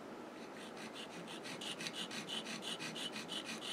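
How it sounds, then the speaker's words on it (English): A hollow chisel mortiser bit being honed with a fine diamond rasp: quiet, rhythmic back-and-forth scraping strokes, a dozen or so close, soft and regular, with no talk. "Hone this with the fine diamond rasp"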